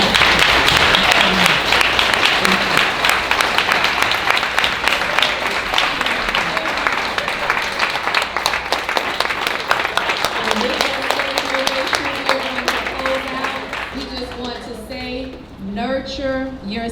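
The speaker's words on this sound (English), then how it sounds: "I just want everyone here to join me in just giving them the biggest round of applause." Sustained applause from a commencement audience honoring graduating emerging leaders, dense steady clapping that fills the room for most of the stretch, with voices and music-like tones rising beneath it as it tapers near the end.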